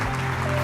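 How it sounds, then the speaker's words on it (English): A conference audience claps for sprinter and commentator Michael Johnson, a brief, dense, steady burst of applause. "Please give me a wide, wide round of applause for Michael Johnson."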